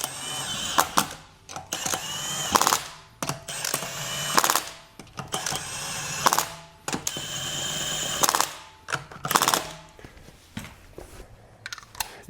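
Power tool on its lowest setting running lug nuts down onto a Kia EV9 wheel during a tire rotation, heard as repeated loud mechanical bursts of whirring and ratcheting separated by short pauses, with no talking.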